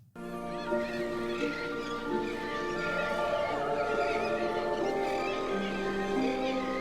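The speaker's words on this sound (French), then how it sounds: "Dans les airs, des milliers d'oiseaux marins" Thousands of seabirds over Grand Connétable island, an uninhabited bird sanctuary off French Guiana, calling in a dense, continuous chorus of overlapping cries that stays steady and fairly loud throughout.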